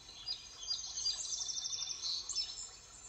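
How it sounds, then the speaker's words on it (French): Small birds singing in a garden, a quiet, rapid high twittering with repeated chirps, faint and continuous over soft background, no talking. "Dans ce jardin, prenez le temps d'écouter les oiseaux"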